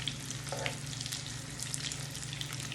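Salmon and shrimp croquettes fry in a pan over medium-low heat, giving a steady, close, moderately quiet sizzle with a low continuous hum beneath and a few faint crackles, no talking.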